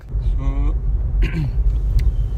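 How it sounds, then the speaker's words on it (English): A car driving on a road gives a low steady rumble throughout, with a few brief higher-pitched tonal sounds layered over it. "now driving back"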